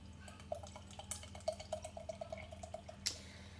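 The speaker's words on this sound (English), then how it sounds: "pour out into this beer glass." Sour beer from Colonial Brewing Co. poured from a freshly opened container into a beer glass, heard as a faint, steady trickle of liquid with small fizzy drips and a light clink near the end.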